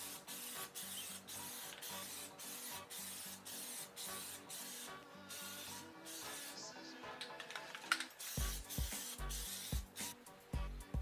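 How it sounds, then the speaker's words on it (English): Aerosol spray paint hisses in repeated bursts as a Rugged Ridge grille for a Jeep JK is coated black, each pass a short loud spray separated by brief pauses. "We're going to be painting this black and get a few coats on it"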